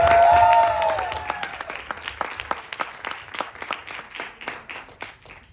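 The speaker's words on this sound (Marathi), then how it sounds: "तुम्ही खूप छान टाळ्या वाजवल्या." An audience claps at a stand-up comedy show, opening in a loud burst that breaks into distinct, rhythmic claps, then gradually thins and fades.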